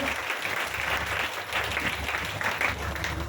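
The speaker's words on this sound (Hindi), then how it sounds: "एक जोरदार ताली आप सबके लिए।" Loud, steady applause from a large audience at a DXN product meeting, dense clapping filling the whole moment without a break.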